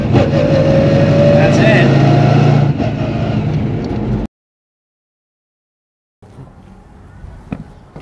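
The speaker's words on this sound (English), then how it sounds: "there's those gears winding" A race car engine rumbles steadily at close range with a whining gear sound, then drops off into silence, and after the gap comes a quieter stretch of faint mechanical noise and small knocks. Someone says a few words.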